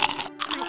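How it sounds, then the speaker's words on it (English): Cartoon crunch of potato chips being bitten and chewed: two quick, loud, close crisp crunches with a tiny gap between, no voices. "The crunching sound was not from the monster."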